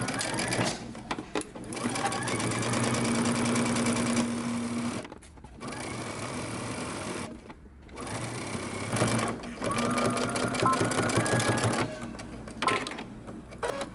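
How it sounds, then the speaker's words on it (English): A sewing machine stitches over existing seams on fabric for a romper and dress. It makes steady, close, buzzing runs of stitching, broken by two short pauses and ending with a few stop-start bursts. "Now go ahead and stitch this down."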